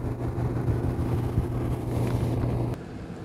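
Wind buffeting a camera's onboard microphone fitted with a Micromuff Skinny deadcat on a Panasonic GH2 while the camera turns outdoors: a steady low rumbling whoosh with mild gusts, cutting off abruptly near the end.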